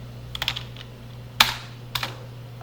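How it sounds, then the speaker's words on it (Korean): Keys clatter on a computer keyboard in a few quick taps, then a single sharper, louder keystroke like the enter key and one more press, all close and clear over a steady low hum. "여기서 그냥 그냥 엔터 쳐볼게요"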